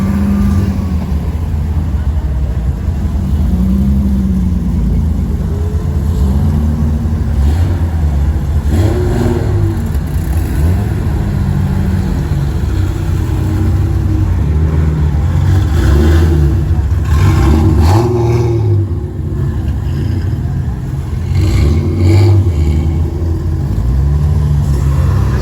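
A long line of cars, BMWs among them, pulls out of a Southern California cars-and-coffee meet. Engines rev and rumble steadily as vehicle after vehicle passes close by, loud and continuous for the whole stretch.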